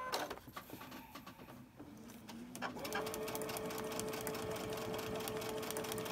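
A domestic sewing machine stitches a paper-pieced quilt block, starting in short bursts and then settling into a steady, close, continuous motor whir with rapid needle chatter.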